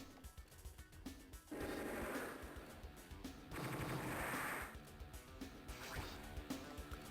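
Rapid machine-gun fire from a battleship in the video game Advance Wars: Dual Strike, sounding in two dense bursts over game music.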